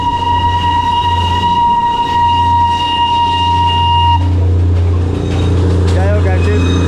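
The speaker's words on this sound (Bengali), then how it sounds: "এই যে টয় ট্রেনে দেখা পেয়েছি," The Darjeeling Himalayan toy train passes close by in the hills, a loud steady rumble of the small narrow-gauge train with a sustained tonal whine and horn-like tones that drop in pitch partway through.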